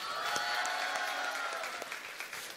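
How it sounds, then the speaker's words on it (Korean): A high school auditorium audience claps for a magician at a youth humanities concert, moderate and somewhat subdued, thinning slightly toward the end with a few more distinct individual claps. "생각보다 박수 소리가 좀 작죠?"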